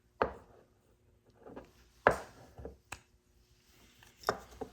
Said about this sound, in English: Clean that lead off of there. So I'll just take a razor knife